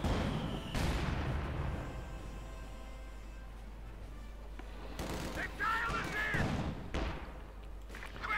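Artillery from a Scott self-propelled gun in Company of Heroes 2 lands as muffled booms and blasts in the game's battle soundscape, heard beneath steady talk from a commentator.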